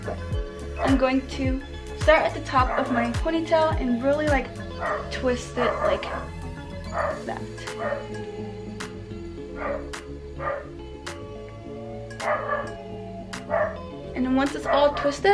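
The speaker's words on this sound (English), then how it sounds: "excuse my dog barking in the back" A dog barks repeatedly in the background of a room, sharp yips and barks coming in clusters throughout, partly masked by someone talking close to the microphone over them.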